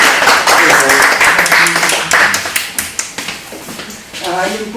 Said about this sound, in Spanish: Entonces un aplauso para Frank, el lingüista.